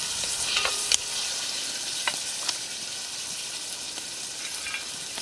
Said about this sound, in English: Give it a stir, mix it up.